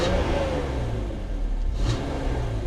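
BMW E46 M3 with headers and large catalytic converters revving gently, a steady deep engine rumble with a slight rise in pitch, close and continuous, no voices over it.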